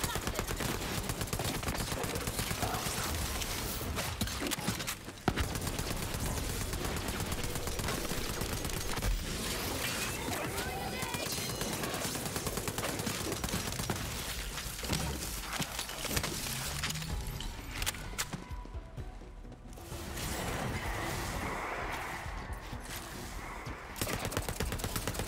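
Dense, sustained gunfire from a gun in the video game Borderlands 3, rapid bursts running almost continuously with a brief lull near the end.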